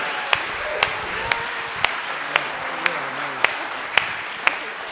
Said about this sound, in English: Can you guys give Dre a round of applause?